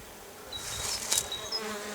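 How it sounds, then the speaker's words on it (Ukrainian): Honey bees fly around frameless hives in warm weather, a steady buzzing swarm with individual bees whining past close by, rising and falling in pitch. No one speaks. "Бджоли літають 20 годин на добу."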